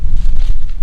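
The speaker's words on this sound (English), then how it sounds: "I'm sorry about the wind. It's just really windy here." Wind buffets the microphone outdoors in a vegetable garden in a steady low roar with gusty rumbling, loud and close, with no talking.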